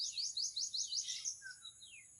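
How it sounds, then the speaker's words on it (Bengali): A quick run of high, bright chirps repeated rapidly, then a few thinner trailing notes from small birds nearby in a forest in the morning. "এই জঙ্গলার ভিতরে অনেক পাখি পাতায় পাতায় উঠতেছে, ছোট ছোট পাখিগুলো ওই দেখতেছেন।"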